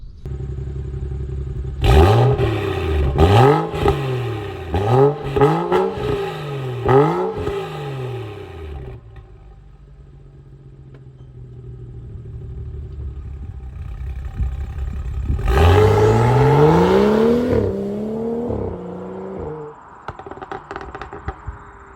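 A BMW 335i with a downpipe, resonator delete and stock muffler revs repeatedly, a series of sharp rising and falling blips, then idles low before a longer, louder rev and settle, loud and close with no talking.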